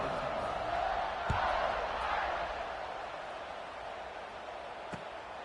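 A college football stadium crowd at kickoff makes a broad, distant roar of cheering that swells briefly and then settles into a steady murmur, with a couple of faint thumps.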